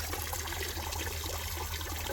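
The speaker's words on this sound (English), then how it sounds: "and then turn on the water" Water runs steadily from a pipe into a backyard guppy pond tub, a constant close trickling wash with a low hum beneath, no pauses or voices.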